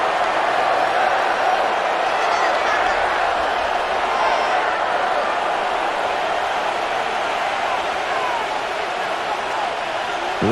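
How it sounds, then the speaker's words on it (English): A stadium crowd in the Madden NFL 26 video game roars in a broad, steady wash of cheering that holds at one loud level throughout, as a game's background ambience. "This crowd doing all they can."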